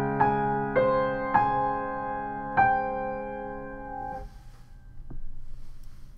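Piano playing the opening notes of a song from Frozen, four struck notes in a slow sequence, each ringing and decaying, close and clear with no talking.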